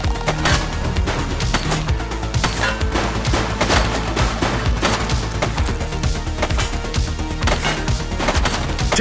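Dense, loud automatic gunfire fills a shootout in the crime video game The Precinct, with rapid overlapping bursts and crashes running without pause.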